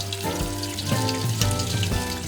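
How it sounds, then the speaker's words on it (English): Water from a garden hose gushes steadily through a gutter downspout, making a loud, continuous splashing rush throughout. "I use a garden hose to flush out the downspouts"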